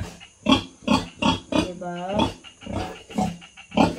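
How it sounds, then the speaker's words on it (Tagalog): A pig grunts on a small farm, a series of close, rhythmic grunts roughly every half second, with a person talking over them. "yan pala yung pangalawa kong baboy"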